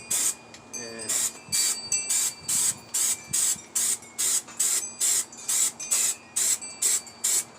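Repeated short bursts of spray coating being applied to parts of an E-Flite Carbon Z RC airplane, about a dozen evenly spaced hissing pulses at close range.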